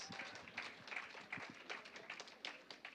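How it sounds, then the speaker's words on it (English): An audience at a community cultural program applauds after a performance, a dense patter of many hands clapping steadily for a few seconds, fairly distant and even. "Let's give that performance one more big round of applause."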